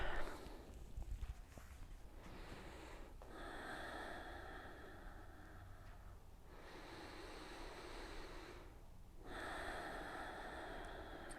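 Slow, deep yoga breaths, each long airy inhale and exhale rising and falling as a soft, close hiss, with short pauses between them and no talking.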